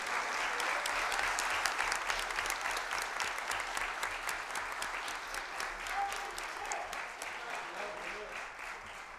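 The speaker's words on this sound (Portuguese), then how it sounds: "uma salva de palmas para ele pelo aniversário dele" A crowd at a solemn legislative award ceremony claps steadily for the presiding deputy's birthday, a sustained, fairly distant wash of applause running throughout with a faint voice briefly audible beneath it.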